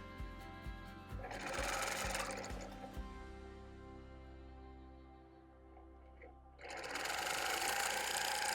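Sewing machine stitching a quilt, backstitching a short run: a loud, close motor whir with rapid needle thumps, a pause as it winds down, then another steady burst of stitching.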